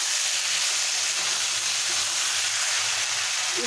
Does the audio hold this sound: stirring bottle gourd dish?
yes